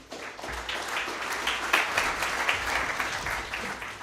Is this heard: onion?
no